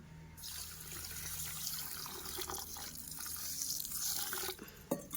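Water being poured over sugar in a pot to make syrup for boondi, a steady trickling, splashing pour that runs close and continuous, with a brief clatter near the end.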